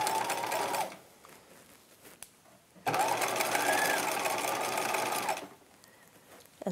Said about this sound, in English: let's go over to the sewing machine now, and we're going to start stitching from the top at 5/8 of an inch.